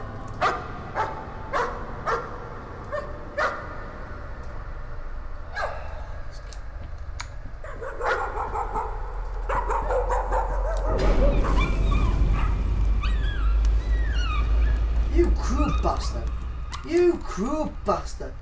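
A dog in a scary video game barks and whimpers, a string of sharp yips and whines, close and clear, later joined by a low rumble and more whimpering.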